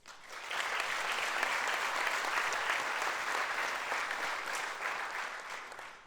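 A theatre audience applauds at the closing of the 59th Vojdan Chernodrinski theatre festival in Prilep, with dense, sustained clapping that swells quickly and carries on evenly before easing slightly.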